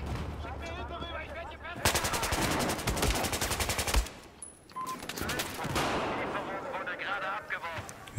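Automatic and heavy gunfire in Battlefield 4 on Xbox One: dense, rapid bursts rattling for several seconds, then a brief lull before more sustained firing, loud and up front, with a player speaking over parts of it.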